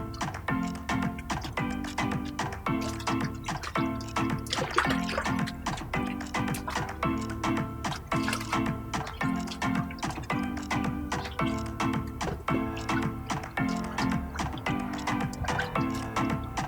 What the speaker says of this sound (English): Now rinse one more time.